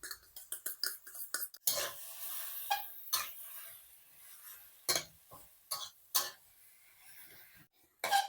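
Dry sukiyaki with vegetables, egg and glass noodles is stir-fried in a pan over medium heat: a quick run of sharp utensil clacks and scrapes, then scattered stirring knocks over a quiet sizzle.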